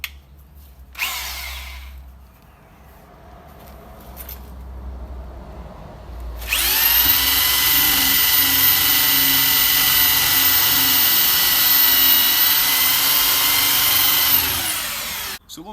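A power drill on plain drilling mode, not hammer, bores into a wall, starting after brief handling noises and then whining loudly and steadily for about eight seconds before stopping abruptly.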